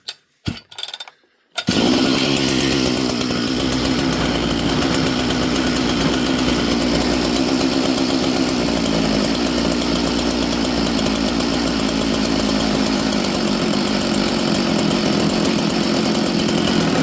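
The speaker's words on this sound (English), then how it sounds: "I'll turn it on." A chainsaw with a very tight idle screw fires up after a couple of brief sputters, then runs steadily and loudly at a constant pitch with no talking.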